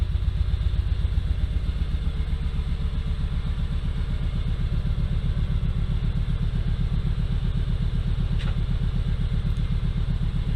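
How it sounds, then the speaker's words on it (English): Motorcycle engine running in gear on a stand, a steady close, loud low rhythmic pulsing as the rear wheel spins freely, with light mechanical clatter throughout and a brief tick near the end. "Goes in gear nice. There's the rear wheel spinning."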